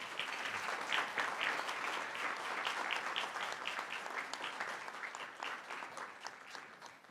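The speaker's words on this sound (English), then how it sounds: "If we could give these folks a round of applause," Audience at a board of directors meeting applauding, a steady, full round of clapping lasting throughout with no talk over it.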